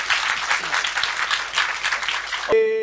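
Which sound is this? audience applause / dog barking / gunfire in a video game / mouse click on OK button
audience applause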